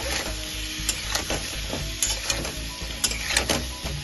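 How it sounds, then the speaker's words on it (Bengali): A frying mixture with turmeric and salt being stirred in a pan, an ongoing sizzle punctuated by frequent metallic scraping clicks from the spoon, close and loud, with no talking. "আবার একটু নাড়াচাড়া করে নেব।"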